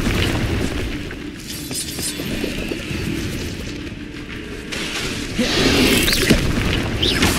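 Fire spells in the Hogwarts Legacy video game burst with dense crackling booms and shattering impacts over a continuous rumbling game soundscape, swelling louder toward the end.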